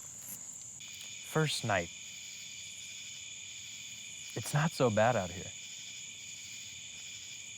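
A steady, high insect drone of cicadas fills the night outdoors, an unbroken buzzing bed under a man's quiet speech in two short bursts.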